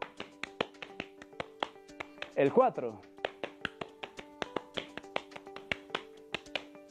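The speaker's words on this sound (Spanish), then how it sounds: "Todos vamos a aplaudir." Hands clapping along in a steady, evenly spaced rhythm during a classroom exercise break, crisp and close, with a short spoken count cutting in midway.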